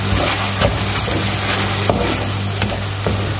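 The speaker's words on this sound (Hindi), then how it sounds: "इसे मिक्स कर लूँगी।" Softened tomatoes with salt and turmeric powder being stirred in a hot pan, a steady sizzle broken by several soft scraping strokes of the spoon, close and alone without speech.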